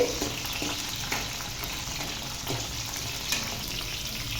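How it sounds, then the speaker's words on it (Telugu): Okra frying lightly in a pan: a dense, even sizzle and hiss held close and steady, with a few soft stirring taps and no voices. "బెండకాయలు ఈ విధంగా లైట్గా 2 నుంచి 3 నిమిషాల వరకు వేయించుకోవాలండి"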